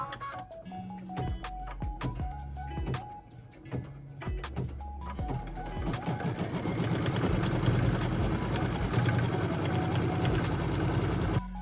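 A sewing machine runs a seam on a quilt block, starting in short stuttering runs of stitches and then settling into a steady, fast, continuous whir that holds to the end.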